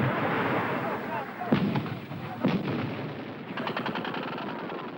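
Barrage of 122mm rockets landing and exploding in a valley during the Angolan war, a rumbling bombardment with several distinct booming impacts and rapid crackling bursts over a constant low roar.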